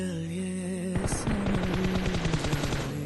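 Rapid automatic gunfire in PUBG Mobile, a quick burst of closely spaced shots lasting a couple of seconds, loud and close over a steady game background tone.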